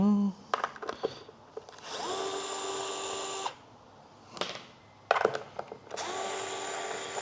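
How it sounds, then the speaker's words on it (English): A cordless power drill removes the top screws from a FloatWheel Atom board, running in several bursts of whining spin with brief rattles and pauses between them, up close. "kind of just removing the top screws right now"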